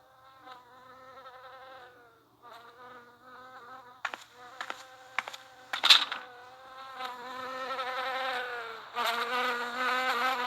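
A bee in a children's English-lesson cartoon buzzes steadily for about ten seconds, a close, droning hum with short swells and a few sharp accents, growing fuller and louder toward the end, with no talking.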